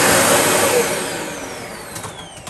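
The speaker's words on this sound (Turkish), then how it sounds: "Şimdi şuradan kendi süpürgemizle sadece 18 seneden beri orada ne birikmiş görelim." A vacuum cleaner runs steadily up close, sucking eighteen years of built-up dust out of a combi boiler during servicing, its broadband whoosh loud and continuous, easing slightly as the nozzle moves.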